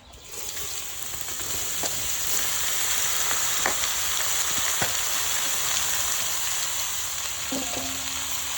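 Bottle gourd hits a hot pan and sizzles in a steady, dense hiss of frying, with occasional scraping stirs and clinks punctuating the continuous crackle.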